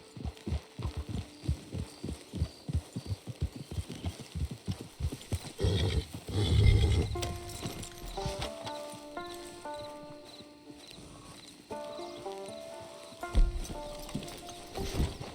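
A horse in the video game Red Dead Redemption 2 trots with rhythmic clip-clopping hooves, then lets out a loud whinny, followed by soft game music and ambient hum.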